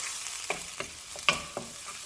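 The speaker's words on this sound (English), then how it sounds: "about 2 to 3 cloves of minced garlic, and the whites of 2 scallions going in. And I'm going to saute this for about" Minced garlic and scallion whites sauteing in a hot pan, a soft steady sizzle broken by several light scrapes and stirring taps.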